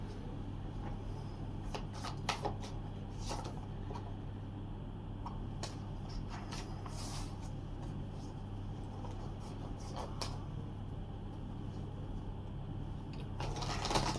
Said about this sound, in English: I'm just going to shuffle the cards again